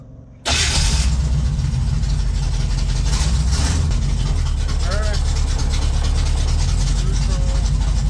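A rat rod's engine fires up with an abrupt onset and settles into a loud, steady, low rumbling drone close by, as the car is driven around in the desert; the heavy mechanical roar runs continuously throughout.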